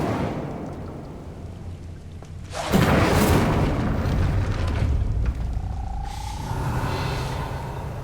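A sudden fiery whoosh from the Incendio fire spell in Hogwarts Legacy erupts loudly after a quiet stretch, roaring briefly, then settling into a lingering crackling rumble.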